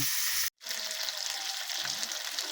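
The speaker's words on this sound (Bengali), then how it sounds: "আমি মাছগুলো ভেজে নেব" Koi fish from a home pond fry in oil, giving a dense, loud, continuous sizzle close by, cut by one abrupt half-second gap before the crackle resumes evenly.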